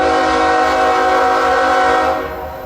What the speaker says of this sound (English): here came the coal train